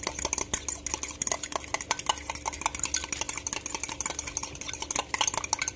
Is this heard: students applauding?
no